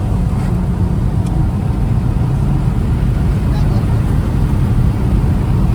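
Volkswagen Passat driven hard, heard from inside the car as a loud, continuous low engine and road roar with no letup.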